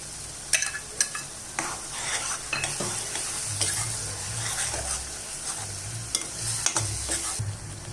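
Small onions and ground tomato for a paarai fish curry sauté in a pan, with a constant sizzle broken by sharp scrapes of a spoon against metal at irregular intervals, close and fairly loud, with no speech.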